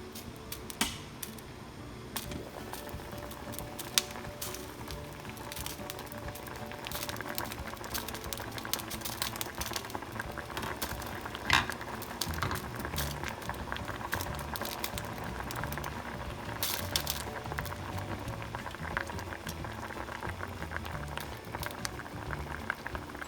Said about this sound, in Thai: จากนั้นก็ปล่อยให้เพิ่นต้ม ให้ซุกเลยค่ะ